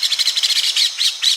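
A sparrow defending its nest gives a rapid run of sharp, high chirps, loud and close, with the last few notes slightly longer and more spaced out.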